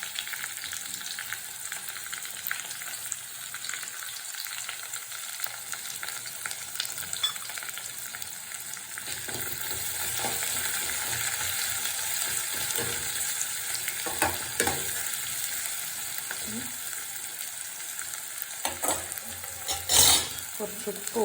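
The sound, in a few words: frying shallots, green chilli, ginger and garlic for rasam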